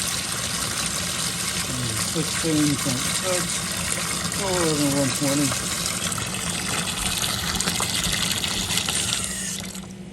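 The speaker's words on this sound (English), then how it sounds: "So I'm going to turn that hot water on, let it run for a minute" Hot water runs steadily into a utility sink, a continuous close splashing rush that plays beneath someone speaking briefly partway through.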